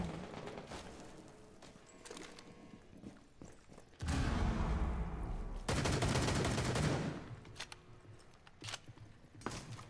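Sniper rifle fire in the video game Rainbow Six Siege, with two heavy, sharp blasts a couple of seconds apart amid quieter in-game sounds and shuffling.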